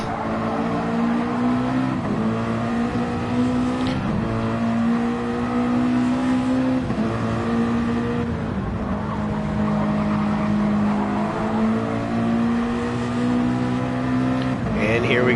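Race cars circling a track in a racing video game, a steady sustained engine drone with pitch shifts and passing whooshes, loud and continuous under a commentator's voice.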